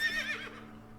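A horse whinnies in the video game Above Snakes, a bright, wavering neigh at the start that fades out over the next second, with a low steady hum beneath it and no talking.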